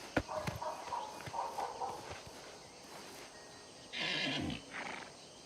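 A horse in the video game Oblivion Remastered clops its hooves in a loose, irregular rhythm at moderate distance, with light ambient game sound around it and a brief burst of noise near the end.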